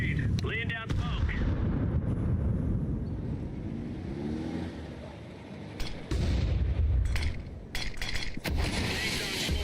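A grenade and smoke canister thrown in a shooter video game, heard as a steady roar of booming blasts and rumbling noise with sharp bursts near the end, loud and continuous throughout.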